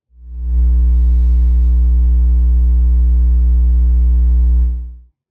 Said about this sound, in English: I've made recordings of a closed box speaker system with and without an audible air leak using a 60 Hz sine wave.